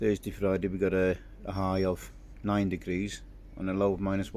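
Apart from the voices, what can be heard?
None of the usual background noises is heard.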